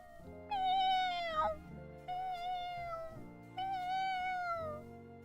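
A house cat meows three times in a row, each meow a clear, drawn-out call with a falling pitch, fairly close and alone in an otherwise quiet room.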